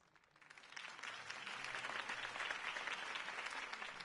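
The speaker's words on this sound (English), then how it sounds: "could have heard that applause" Crowd applause in the Batman Telltale video game, swelling in over the first second then holding as steady, dense clapping, fairly loud and uninterrupted.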